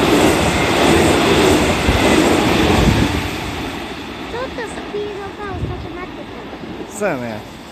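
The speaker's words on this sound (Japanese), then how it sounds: "まもなく2番線の列車が通過します。" A JR 313 series train passes through Aimi station, its loud rumble and clatter fading, followed by high squeals and tones as people talk nearby on the platform.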